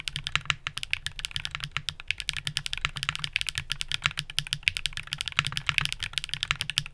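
Typing on a keyboard fitted with Gateron Magnetic Jade Pro Hall effect switches, a steady rapid patter of crisp clicky keystrokes with no talking.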